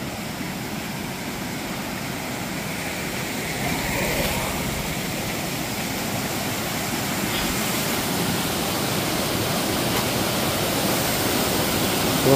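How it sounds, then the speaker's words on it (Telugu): A waterfall on the hillside path to a Venkateswara temple in the Araku forest, a constant broadband rush of falling water heard close and loud, alone and unchanging throughout. "చూస్తున్నారు కదా జలపాతం ఎంత బాగుందో."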